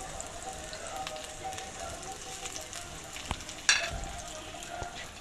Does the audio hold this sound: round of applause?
no